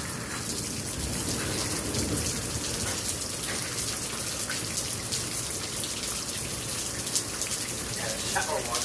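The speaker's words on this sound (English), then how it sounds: "We got all excited to come outside and look at the rain." Steady rain falling outdoors during a summer storm in Mesa, Arizona, a continuous patter and hiss on surfaces with splashing drips, no voices heard.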